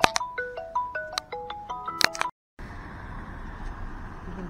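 A phone ringtone plays a bright, rhythmic sequence of electronic tones, loud and close, then cuts off abruptly; after a short silence a quiet outdoor street ambience takes over in a small Spanish seaside town.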